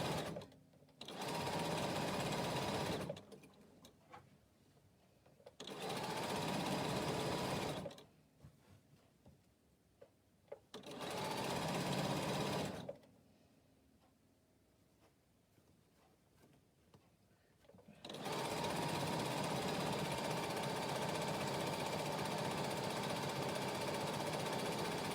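A sewing machine stitches in three short bursts separated by pauses, then runs steadily at the end, a close, whirring hum with faint clicks during the quiet gaps.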